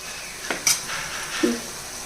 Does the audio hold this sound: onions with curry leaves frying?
yes